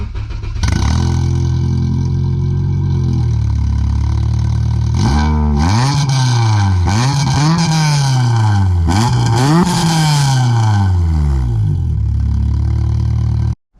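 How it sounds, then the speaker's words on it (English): A K-swapped Honda Civic's exhaust idles loudly up close, then revs repeatedly in rising and falling sweeps before settling back and cutting off abruptly. "she can record the exhaust for you guys."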